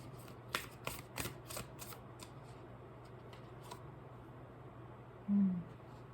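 Beyond Lemuria oracle cards, pocket edition, shuffled by hand in a quiet room: a quick series of crisp riffling flicks at the start, then soft faint card sounds trailing off, with a brief low thump near the end.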